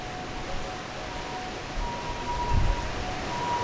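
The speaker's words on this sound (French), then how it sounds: "ce que vous entendez, c'est la sirène de l'école, qui se met systématiquement en route quand il y a un peu de vent" A school siren wails during cyclone Belal's winds, a thin steady tone sustained through a constant wind roar, with a low rumbling gust swelling near the end.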